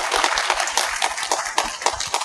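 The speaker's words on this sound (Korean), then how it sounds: "박수로 맞아주시면 감사하겠습니다" Audience applause at the Korean launch of the Rolls-Royce Cullinan, Rolls-Royce's first SUV, welcoming the company's director and product manager on stage; dense, steady clapping from a full room, fairly loud throughout.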